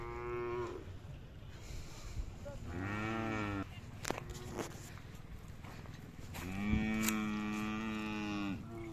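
Cattle moo repeatedly at a livestock fair in Maharashtra where Khillar bulls, cows and young bullocks are traded, several long harmonic calls rising over a steady crowd murmur, with clanks and brief bangs between them.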